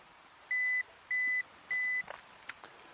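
A Ruko F11 Pro 2 drone controller sounds three evenly spaced electronic beeps after losing connection, sharp and steady, followed by a few faint clicks and rustles.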